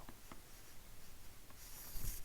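Marker or chalk strokes on a lecture board, a few quick scratchy rubs in irregular bursts, close and fairly quiet with no talking.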